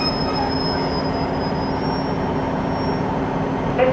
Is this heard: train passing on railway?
yes